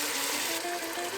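Hot water pours steadily into a pot of sautéed vegetables and pumpkin for soup, a continuous close splashing rush with a faint tonal ring as the pot fills.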